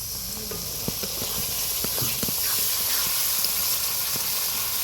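Spiced masala with turmeric in a pan after a splash of water, giving a steady loud hiss and sizzle with a few soft clicks of stirring, for a mutton curry in a home kitchen.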